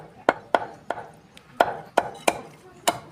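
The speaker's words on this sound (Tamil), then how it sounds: "இப்போ பீஸாக கட் பண்ணிக்கலாம்." Heavy knife chops through a country rooster being cut into pieces, seven or eight sharp separate blows spaced unevenly over a few seconds, close and crisp, with no talking.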